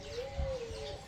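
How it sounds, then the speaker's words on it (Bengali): A quail calls once in an African wildlife sanctuary at dawn, a short clear cooing whistle that glides slightly in pitch over about a second against quiet outdoor background. "এগুলো হলো কোয়েল"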